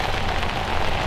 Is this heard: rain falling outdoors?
yes